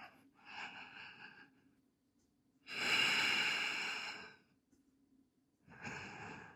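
A yoga practitioner breathes audibly and close, taking a short breath, then a long, strong exhale, then another breath. Quiet pauses fall between the breaths.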